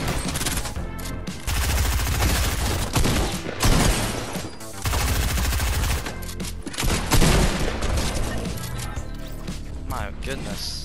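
Loud, dense automatic gunfire from a Fortnite solo squads match, bursts of rapid shots running almost nonstop with brief gaps and sharp impact cracks.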